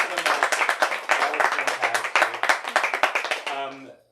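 An audience claps after a book reading, a dense burst of many hands applauding steadily and fairly loud, fading out at the end as a voice speaks briefly over it.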